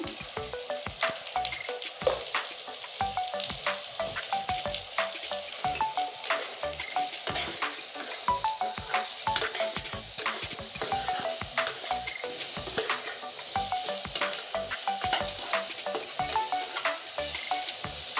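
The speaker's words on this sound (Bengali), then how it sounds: "এবার আলু আর পেঁয়াজ কষতে থাকবে" Potatoes and onions frying in a pan with a steady, close sizzle and crackle, stirred now and then, continuous throughout.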